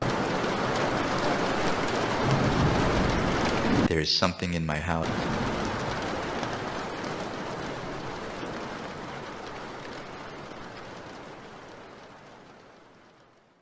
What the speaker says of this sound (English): The storms nearly brought the whole farm down.